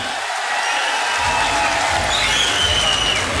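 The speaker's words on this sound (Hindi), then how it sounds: "अगर ताली बजाओ तो ढंग से बजाओ, नहीं तो बजाए मत करे करो" Audience applause at a village mahapanchayat in Anangpur, a broad sustained patter of many hands that swells after a quieter first second and continues steadily, with faint crowd murmur underneath.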